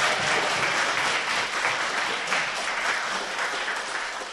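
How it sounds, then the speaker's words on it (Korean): An audience at a Korean political talk show claps steadily in dense, continuous applause that holds loud for several seconds and fades slightly toward the end. "박광원 의원에게 박수"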